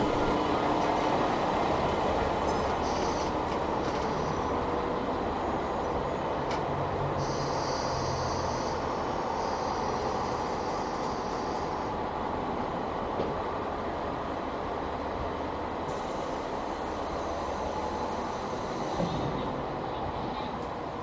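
A JR train rolls steadily into the small rural Yoshimi station, a continuous broad rumble of wheels and engine that holds for the whole stretch with faint squeals on top and no talking.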